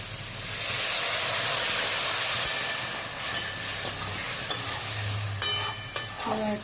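Okra sizzles and hisses steadily in a frying pan as it is stirred, with a few soft scrapes and clinks of a spatula near the end and no talking.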